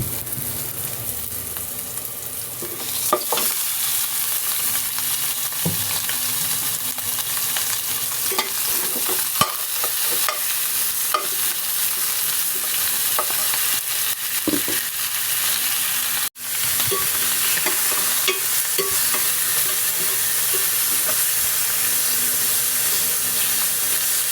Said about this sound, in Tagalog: Ilagay na rin natin ang nailagang buto-buto at sangkotsain ito maigi.